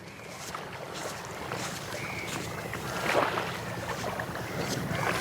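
Small fishing boat moving across open water off an island in Sri Lanka, with a steady outdoor wash of wind and water and a slight swell in loudness midway.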